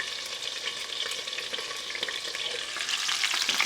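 Bacon-wrapped spinach-stuffed chicken breast fries in a hot pan, a steady close sizzle with crackling pops that grows a little louder toward the end, no talking.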